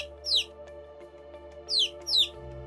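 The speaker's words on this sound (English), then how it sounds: "Yellow chicks add a splash of color." Cute yellow chicks chirp in three short, high bright peeps, one near the start and two close together near the end, over a faint steady background hum with no talking.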